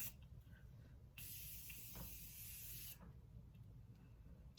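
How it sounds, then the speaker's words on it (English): A Tarte Maracuja Miracle Mist face spray gives one steady, close hissing burst lasting under two seconds, with quiet room tone before and after. "give my face a mist. So this is the Tarte Maracuja Miracle Mist."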